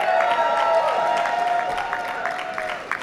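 Graduates at a 2018 Columbia Business School recognition ceremony applaud and cheer, a dense, steady clapping crowd filling the room and easing slightly toward the end.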